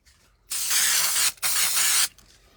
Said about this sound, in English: just a little bit of spray glue on the back